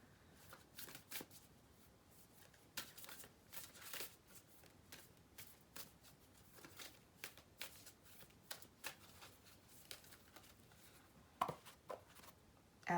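A deck of cards is shuffled by hand in a quiet room, with a run of soft, riffling bursts and crisp snaps spread irregularly over the stretch, close and fairly faint with no talk.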